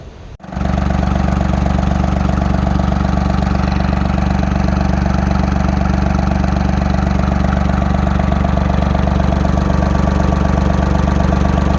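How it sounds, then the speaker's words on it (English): A 1966 Ford 3000 tractor engine catches almost at once and settles into a loud, steady, close idle with an even rhythmic thrum that runs unbroken to the end. "As you've seen, the tractor started."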